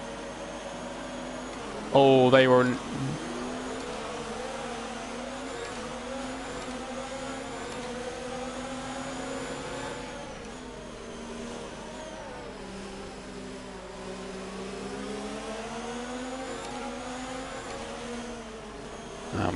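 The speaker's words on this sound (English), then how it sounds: "Building up the revs." F1 race car engine in the F1 2019 video game, revving steadily at the race start with rising and falling pitch sweeps, running continuously under a speaking voice.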